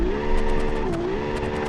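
A car drifting through a corner in BeamNG.Drive, engine held at high revs with a steady whine that dips and rises as the throttle powers the slide, loud and continuous throughout.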